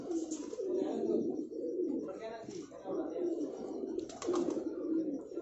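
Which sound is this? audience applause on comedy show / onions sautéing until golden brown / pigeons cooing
pigeons cooing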